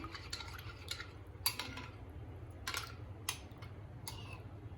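A spoon clinks and scrapes against a bowl while stirring yogurt, with light irregular taps over a low steady background hum.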